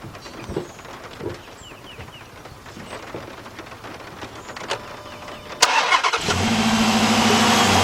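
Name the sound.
car engine starting, Chrysler/Dodge vehicle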